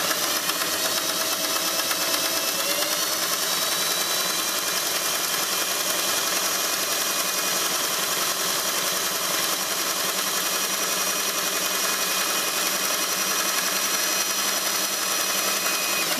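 An old used sewing machine runs steadily while top stitching a fabric collar, a continuous close mechanical whir with a fine rapid needle rhythm and no speech.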